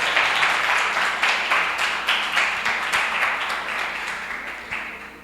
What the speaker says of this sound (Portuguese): Vamos aplaudir a Raquel também